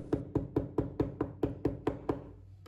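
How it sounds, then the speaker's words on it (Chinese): A cleaver chops minced meat on a board with about ten evenly spaced, sharp thuds in quick succession, close and clear, before the blows stop. "用刀剁出来的肉馅味道会更好"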